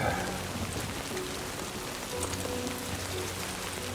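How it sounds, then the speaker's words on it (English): Heavy rain pours steadily in Death Stranding 2, a dense, unbroken hiss of downpour beating on surfaces, loud and close throughout with no voices over it. "I definitely like this rain a lot more than in the first one."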